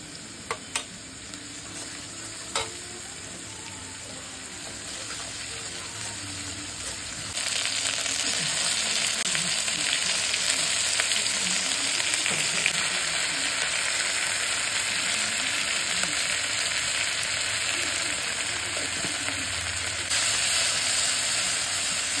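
Crab curry masala with a little tomato paste and water frying in a pan, a steady close sizzle with occasional stirring scrapes, growing louder and denser partway through.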